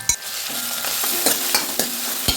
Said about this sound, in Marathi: आता यामध्ये मी आपलं हिरवी मिरची आणि आल्याचं लसणाचं वाटण टाकते